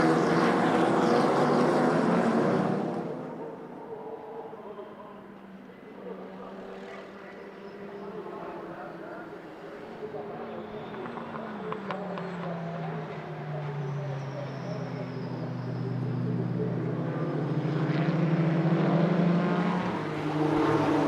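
Racing cars on the Nürburgring during the 24-hour race, a Chrysler Viper leading an Audi TT RS2, roar past, swelling loudly, fading to a distant drone, then building again near the end.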